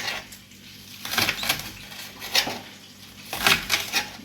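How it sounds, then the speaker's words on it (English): Knife chopping vegetables on a cutting board in a home kitchen, irregular clusters of sharp clicks and knocks with quiet pauses between bursts, close and moderately loud. "But I am cutting up all these vegetables."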